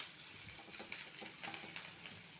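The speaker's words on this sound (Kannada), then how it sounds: "ಹಸಿಮೆಣಸಿನ್ಕಾಯಿನ ಹಾಕ್ಕೊಳ್ಳೋಣ ಸ್ವಲ್ಪ ಬಾಡಬೇಕು" Green chillies fry in a pan as the base for a lentil and drumstick-leaf sambar, giving a soft, steady sizzle with faint crackles and light stirring throughout, with no voices.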